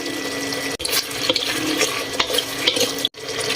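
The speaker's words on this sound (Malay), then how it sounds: "Kita kacau-kacau sikit." A spatula stirs saucy black pepper chicken with carrot and onion in a pan, giving a steady wet sloshing and scraping with a couple of brief breaks.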